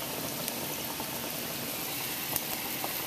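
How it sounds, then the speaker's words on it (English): A pot of tomatoes and jalapenos bubbles at a steady rolling boil, a continuous watery roar with small pops rising above it. "Tomatoes and jalapenos are boiling."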